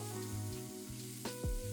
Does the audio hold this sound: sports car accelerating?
no